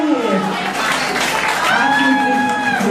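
An audience breaks into applause while voices talk and call out loudly over the clapping throughout.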